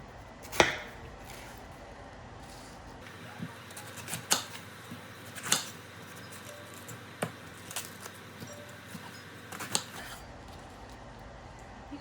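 A knife cuts a vegetable on a cutting board while preparing caldo de res, about ten light, separate chopping taps spaced a second or so apart against a quiet kitchen background.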